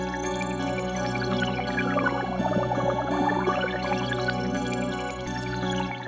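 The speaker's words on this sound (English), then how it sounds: "And I went with the water bubbles preset" Synth sound in a trap beat processed by the Filter Shaper XL plugin on its water bubbles preset, a steady resonant tone whose sweeping filter glides down and back up, with dense bubbly harmonics over a continuous beat, loud and without talk.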